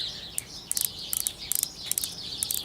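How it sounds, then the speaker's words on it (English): Birds chirp and tweet outdoors in quick bright bursts, several short calls repeating through the moment, fairly clear against a quiet background. "That's nice background music, huh? Birds."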